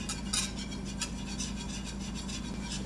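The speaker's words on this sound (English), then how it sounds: "Keep whisking." A whisk rubs steadily against a pan as lemony cooking liquid is worked into a roux for a walleye sauce, producing a soft, continuous scraping with faint rhythmic swishes.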